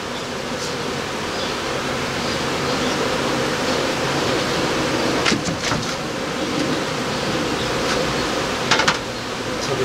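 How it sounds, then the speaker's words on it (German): Honey bees swarm around a beehive during beekeeping work on nucleus colonies, making a dense, constant buzzing drone close to the microphone, with a few faint clicks and knocks of handling. "Ja, da sind schon wieder gleich Bienen dran."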